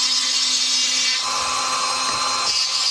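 Close, steady high-pitched whine of a rotary tool grinding through fire agate stone, loud and continuous with slight shifts in pitch as the bit presses into the stone.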